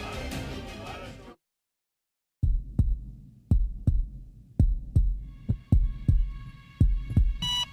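A deep, booming heartbeat sound effect thumps in slow, regular pairs after a short silence, loud and close, following a brief stretch of other sound at the start.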